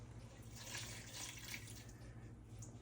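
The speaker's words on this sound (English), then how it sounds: "And then we're gonna just pour this water in." Water pours and splashes steadily into a container, a soft continuous trickle with a faint hollow ring, fairly quiet and close.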